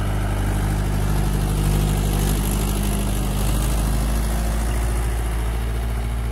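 A Mahindra 575 45 hp tractor pulls a 13-tine cultivator through a field, its diesel engine droning loud and steady throughout, close and continuous, with a low rumbling tone and no speech.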